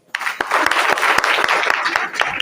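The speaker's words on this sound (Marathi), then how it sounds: "सर्वांनी एकदा टाळ्या वाजवा" Audience applause at a kirtan devotional gathering, a sustained burst of many hands clapping loudly for over two seconds, with sharp individual claps standing out and a voice faintly underneath.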